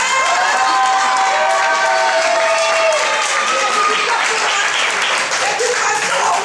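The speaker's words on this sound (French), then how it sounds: "On peut les applaudir" A crowd at a 2013 carp fishing challenge claps and cheers for a winning team, the applause sustained and lively with shouts and whistles mixed in and people talking.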